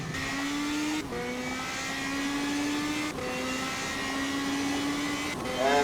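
Radical SR3 race car with a 6-speed gearbox accelerates hard on track, its loud engine note rising steadily through two upshifts with brief dips between gears, then climbing into a final gear change near the end.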